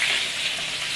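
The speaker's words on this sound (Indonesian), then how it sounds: "Gongso bawang merah ya." Shallots sauté in hot oil, giving a brief, steady, close sizzle with a bright hissing texture and no talking.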